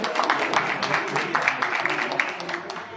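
Audience clapping at a Diwali lucky draw in an electronics showroom, a steady crowd patter of hands that is fairly loud and continuous, with voices talking underneath.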